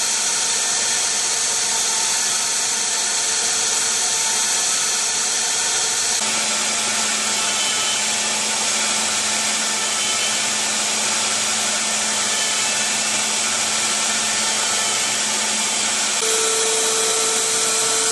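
A CNC machine drills through-holes in a printed circuit board, giving a steady, loud spindle whine with a hissing broadband roar that holds unbroken for the whole stretch, with a slight shift in pitch partway through and no voices.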